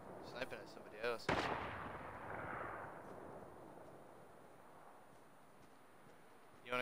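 Sniper fire in Fortnite: a loud rifle shot rings out near the start and its boom rolls away over several seconds, with a player's voice talking under it.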